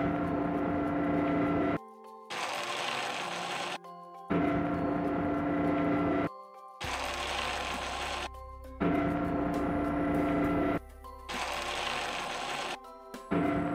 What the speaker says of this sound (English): let's watch it as it lowers its winch and rotates on its platform